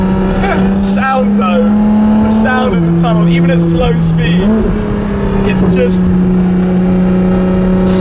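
A Ferrari LaFerrari engine with a straight-pipe exhaust drones steadily with rising and falling revs, loud and close, while a person talks over it throughout.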